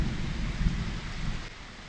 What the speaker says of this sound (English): I thought we might just enjoy a little rainstorm together.